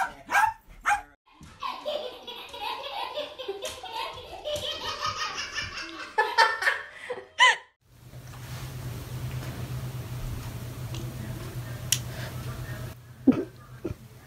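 A dog barks in a few sharp bursts amid a baby's loud laughter and adult voices indoors, the barks close and punchy, with household noise continuing after the laughter fades.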